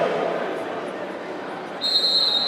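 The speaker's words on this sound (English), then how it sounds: "There's the whistle." A referee's whistle shrills near the end of a men's roller derby World Cup match between Australia and France, a steady high tone rising over continuous arena crowd noise and skate rumble.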